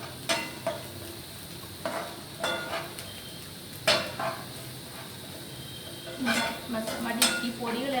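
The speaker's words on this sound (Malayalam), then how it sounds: "1/2 teaspoon meet masala, 1/4 teaspoon garam masala, 1 നുള്ളു മഞ്ഞൾപ്പൊടി ചേർത്ത് ഇനി ഇളക്കിയെടുക്കുക" Meat masala, garam masala and turmeric stirred and frying in a pan, a low sizzle under repeated close spoon scrapes and light metallic clinks, with no one talking.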